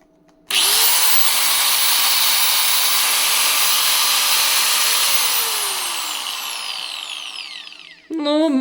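A repaired electric angle grinder with a formerly burnt, melted switch starts up abruptly and runs at a loud, steady high whine, slowly winding down near the end before a brief restart, close up with no talk.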